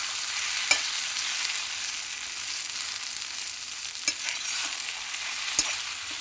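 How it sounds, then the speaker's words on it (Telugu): Soaked sabudana mixed with peanut masala is stirred in a pan, a soft continuous sizzle with occasional sharp spoon clicks against the metal. "ఇప్పుడు ఈ పల్లి మసాలాలతో మొత్తము కలపాలి అన్నమాట"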